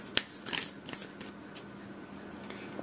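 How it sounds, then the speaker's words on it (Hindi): Tarot cards are shuffled close by, making soft papery riffles and flicks with a few sharper snaps, quiet and alone without talk. "आपके कार्ड शफल करते वक्त काफी उछल रहे हैं।"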